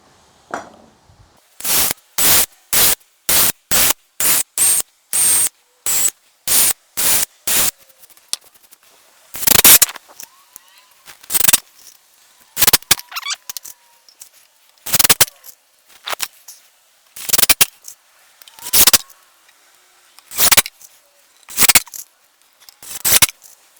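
Cordless drill driving screws down into a solid workbench top, a fast run of about a dozen short whirring bursts, then slower, longer spaced drives, loud and close with quiet gaps between.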